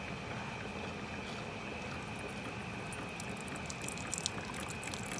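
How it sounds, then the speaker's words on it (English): Keurig coffee maker dispensing water, a faint steady hissing pour and trickle with a constant tone running underneath, continuous and unbroken for several seconds. "And you let it dispense."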